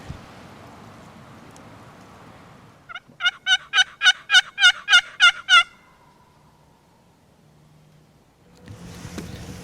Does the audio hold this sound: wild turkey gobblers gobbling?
yes